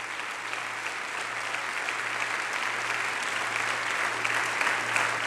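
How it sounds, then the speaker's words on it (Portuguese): A church congregation applauds in a steady, even wash of clapping that holds at moderate volume throughout, over a low constant hum, with no one speaking. "Pode aplaudir ao Senhor, porque assim vai ser"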